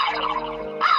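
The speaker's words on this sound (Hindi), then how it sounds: "मैं नहीं, कौवा बोला।" A crow gives a short, harsh caw close by, a single call of about a second with a brief sharper burst at its end.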